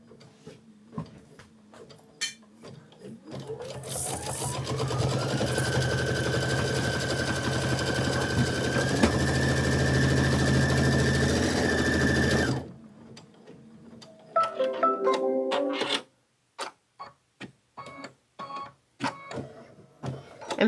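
A Baby Lock Avenir embroidery machine stitches an applique, speeding up into a steady rapid whirring hum with rising pitch, then stopping abruptly, followed by scattered clicks and taps.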